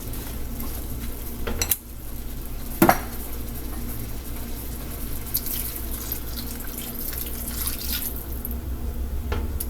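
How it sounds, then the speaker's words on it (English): Water runs into a pan of apples already mixed with cinnamon, sugar and lemon juice for Southern fried apples. It is a steady, close wash of pouring with a couple of sharp clanks of the pan early on, and nobody speaks. "and then we're going to add 1 cup of water"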